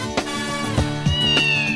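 A cat meows several times in a row over a musical background, with clear rising-and-falling cries that sound close, set in a household where a kitty needs a new home.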